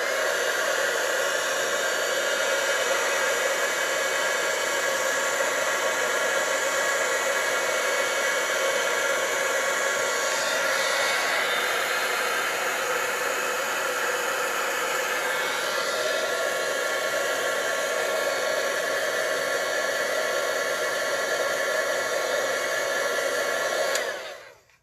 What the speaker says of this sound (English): I am going to get out my heat tool and excuse the noise for a moment while I dry